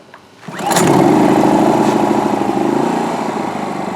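A Craftsman 3300i inverter generator engine starts after a brief quiet moment and settles into a loud, steady close-up run with a rough mid-pitched drone.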